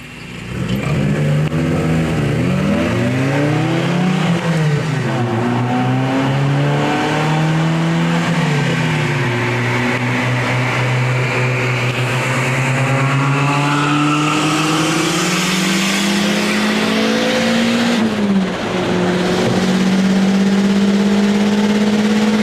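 A turbocharged car pulls away from a standstill with a loud, sustained engine roar, pitch climbing through several gear changes with brief dips between shifts, heard close from inside the vehicle for over twenty seconds.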